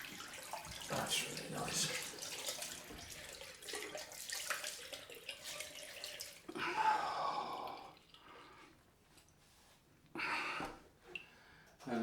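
Cold water runs from a tap for a post-shave rinse, a close steady splashing flow with drips and intermittent gushes, with a brief spoken remark partway through.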